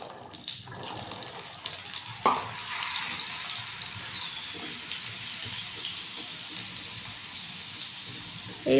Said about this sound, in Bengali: এইভাবে সমস্ত চানা আমি ভেজে নেব।